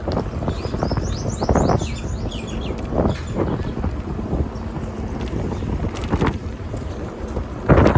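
A boat approaches on open water at Hamda, its engine rumble mixed with heavy wind buffeting the microphone and a few birds chirping high above, all steady and continuous without speech.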